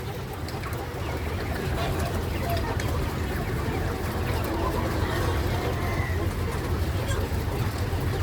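A dense flock of laying hens about to start laying clucks continuously, a loud, steady chorus of overlapping calls with a low rumbling hum underneath.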